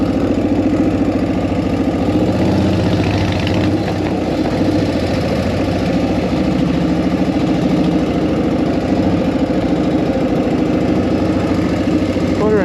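A 1940 flathead engine idles in neutral after an intake leak repair, a steady, loud low rumble running unbroken for the whole stretch with no talk over it.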